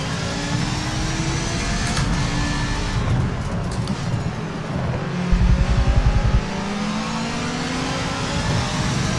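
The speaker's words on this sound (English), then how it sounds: "Tire going on the curb." A race car in Forza Motorsport 7 roars at high revs while its tire rumbles over a trackside curb, a brief pulsing judder standing out midway through the steady engine noise.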